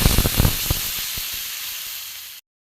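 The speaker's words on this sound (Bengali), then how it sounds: "কষানো হয়ে গেছে, এবার জল দেবো।" Water poured into a hot pan of potol and soybean curry cooked over a wood-fired clay stove, a loud burst of hissing sizzle with crackling pops that gradually thins out before cutting off abruptly.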